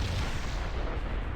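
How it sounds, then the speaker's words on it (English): A loud starship explosion in the Star Trek Starfleet Command tactical combat game, a dense, booming burst of rumbling noise that holds steady for the whole short moment. "Got damaged in that explosion."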